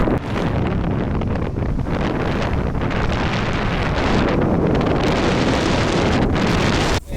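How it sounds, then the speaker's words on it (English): Strong wind roars across the microphone at the top of a construction crane above a tall tower building site, a loud continuous buffeting rush that never lets up, with no voice heard. "if you can hear me above the wind"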